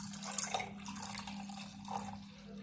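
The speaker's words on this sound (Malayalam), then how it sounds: "ഇതിലേക്ക് 1 ഗ്ലാസ് വെള്ളം ചേർത്ത് കൊടുക്കണം" A glass of water poured into palappam batter in a pan, a short bubbling splash with trickling and dripping, fairly faint over a steady low hum.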